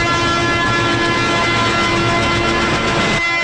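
A train in a Telugu film scene pulls away from the platform, a loud steady rolling rumble with a sustained horn-like tone running throughout, cutting off sharply near the end.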